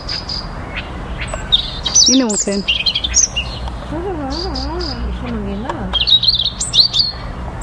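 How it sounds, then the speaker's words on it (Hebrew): A European robin chirps in a yard with short, bright, high tweets in scattered bursts from close by. People talk softly in between the calls. "הנה, את שומעת את הציוצים שלו?"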